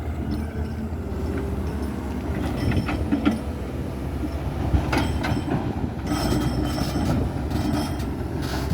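A LiuGong 952E excavator fitted with a ripper breaks rock at a railway construction site, giving a loud, continuous heavy rumble with repeated grinding, scraping metallic bursts and no talk.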